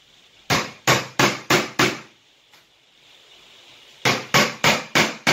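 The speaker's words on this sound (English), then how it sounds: "I'm going to make a hole in it by literally whacking it with a hammer" Sharp, loud hammer blows driving a nail through metal: five quick strikes, a pause, then five more in a steady rhythm.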